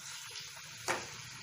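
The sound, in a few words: tomatoes frying in oil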